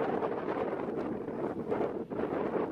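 Strong force-5 sea wind buffets the microphone aboard a fishing boat near Phu Quy island, a steady loud rushing roar with gusty swells and no talk.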